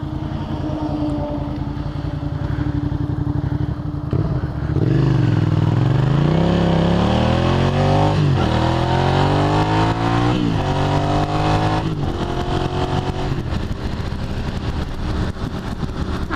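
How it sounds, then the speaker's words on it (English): A motorcycle engine heard up close while riding, its loud, steady drone dipping then climbing in pitch as the rider works through the revs, with wind and road rumble underneath. "Love the sound of this bike."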